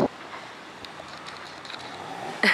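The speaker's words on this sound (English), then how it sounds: "Windy." Steady hurricane wind (Hurricane Dorian) rushing and buffeting outdoors near fallen trees, a low broadband roar with a few faint gusts and a brief louder burst at the start and end.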